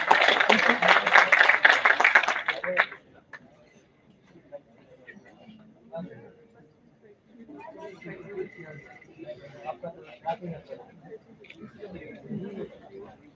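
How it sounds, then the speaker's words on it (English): A big round of applause at the Finance Conclave 2024 bursts loudly for nearly three seconds, then drops away to quiet murmuring and scattered voices in the hall. "Let's have a huge round of applause for sir as well."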